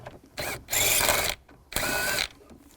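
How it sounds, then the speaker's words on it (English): A screw is backed out with a 7mm socket on a 2002-2009 Chevrolet Trailblazer HVAC control module, heard as two loud, whirring mechanical bursts separated by a short pause, close and alone. "take this screw out right here, use a 7mm socket"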